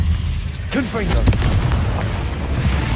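In the game Hogwarts Legacy, a Confringo fire spell lands as a loud, close booming blast with a rumbling tail, punctuated by a short crackling burst.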